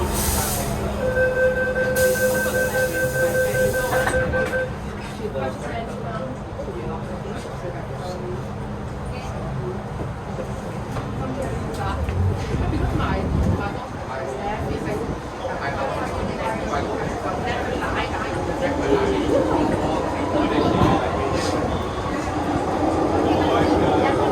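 A first-generation MTR Metro Cammell M-Stock train runs along Hong Kong's Island Line from Kennedy Town toward Chai Wan with a loud, continuous interior rumble. Door-warning chimes sound at the start, and wheel squeal rises later. Recorded announcements speak over the noise.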